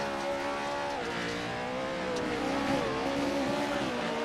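A Pro4 race car in a sim racing game at Wild Horse rounds the last corner with a loud, steady engine drone. The pitch dips briefly as it turns, with a faint tire hiss underneath and no talking.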